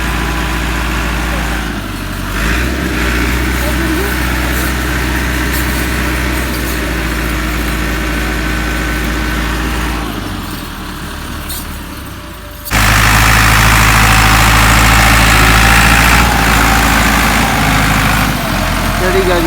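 A tractor stuck in slippery mud runs with a steady, loud low engine drone that rises sharply in revs partway through as it strains, with someone talking over it.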